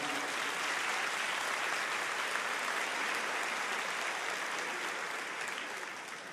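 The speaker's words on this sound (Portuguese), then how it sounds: "Você pode aplaudir o Senhor?" A church congregation applauds together in a sustained, dense wash of clapping that stays loud and even throughout, then eases slightly at the end.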